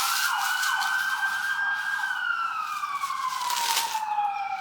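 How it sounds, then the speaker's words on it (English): An ambulance siren passes by outside near a hospital, its wailing tone rising and falling steadily and then sliding lower in pitch as it moves away, loud and continuous with no talking. "Excuse the ambulance going by."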